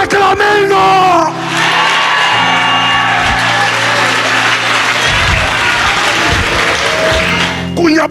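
A church congregation cheering and acclaiming God during a service, a loud sustained roar of shouts, whoops and clapping from a large crowd, following a brief raised voice at the start.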